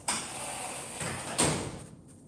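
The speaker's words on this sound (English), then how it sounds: "But when I close the window, please feel it." A folding window panel slides shut with a rolling scrape, followed by a firmer thud as it seals, then outside noise drops away and the room goes quiet.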